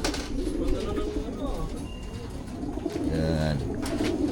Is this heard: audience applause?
no